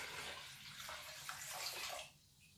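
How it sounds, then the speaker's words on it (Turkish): Plain drinking water pours steadily into a jar in a continuous rushing splash, close and fairly loud, then stops abruptly near the end. Nobody speaks. "Evvela 10 su bardağı bizim daha önceden hazırladığımız suyumuzu, doğal suyumuzu, normal doğal suyumuzu kavanozda boşaltıyoruz"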